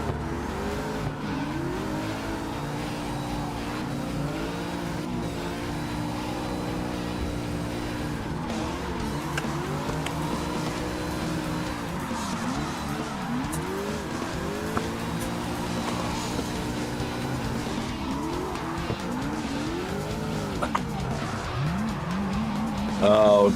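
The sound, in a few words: car drifting with e-brake, tire squeal, CarX Drift Online video game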